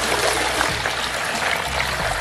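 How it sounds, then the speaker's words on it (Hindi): Water poured from a container into a refrigerator being cleaned, a continuous close splashing and trickling stream, steady and fairly loud for a couple of seconds. "पानी डाल देती हूँ"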